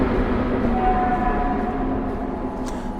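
Train in a puzzle game, a continuous rumbling rolling noise with faint tonal whine layered on top, steady and fairly loud without a break.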